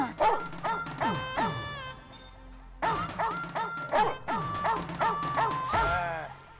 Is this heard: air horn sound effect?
no